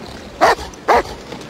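A sled dog on the White Pass trail barks twice, two loud, close, separate barks with a short gap and quiet in between.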